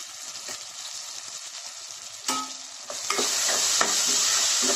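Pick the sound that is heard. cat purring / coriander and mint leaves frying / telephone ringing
coriander and mint leaves frying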